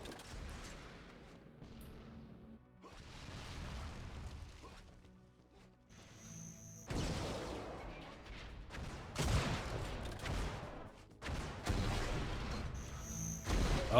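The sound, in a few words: rocket launcher fire in Unreal Tournament video game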